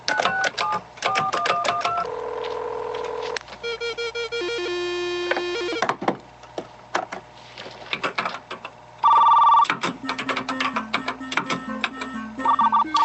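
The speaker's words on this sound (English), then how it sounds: "Dialing into the school's computer." A telephone dialing into a school's computer in 1984 gives a loud run of dial tones and shifting electronic beeps, with steady modem-like tones and clicks, close and with no voice over it.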